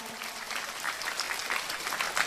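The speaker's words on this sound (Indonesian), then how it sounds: "saya minta tepuk tangan dulu dong buat Tritunggal" Congregation at an Islamic religious gathering in Lamandau applauds for Tritunggal: a brief, dense patter of many hands clapping, steady and moderately loud, with no speech over it.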